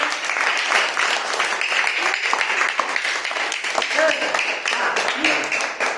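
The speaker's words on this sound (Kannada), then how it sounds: "ಚಪ್ಪಾಳೆ ತಡ್ರಿ." Dense, continuous clapping from a group of schoolchildren during a classroom activity, loud and close, with voices mixed in underneath.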